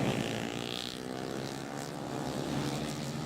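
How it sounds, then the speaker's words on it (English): A helicopter arriving at a motocross race meeting, a steady loud droning rotor and engine noise with no speech over it. "well, it's very impressive arriving in the helicopter, isn't it?"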